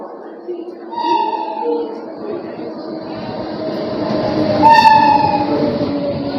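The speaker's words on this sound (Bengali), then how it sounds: "আমাদের সাইড দিয়ে এখন থ্রু ট্রেন বেরিয়ে যাচ্ছে" A through train rolls past alongside a standing train, a loud continuous rumble with two bright horn-like tones, one early and one stronger near the end, while people talk over it.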